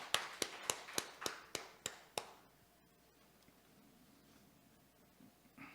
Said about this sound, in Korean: 좋으신 우리 아버지 하나님께 영광의 박수를 드리겠습니다